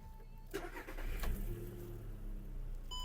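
A 2008 Volkswagen Golf 5 with a 1.6 MPI petrol engine cranks briefly and catches almost at once, then settles into a smooth, even idle, heard close and alone.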